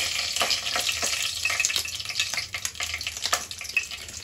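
Whole spices including cinnamon sticks, cardamom pods, bay leaves and shahjeera frying in hot oil for vegetable biryani, a steady close crackling sizzle with scattered sharp pops and occasional stirring scrapes.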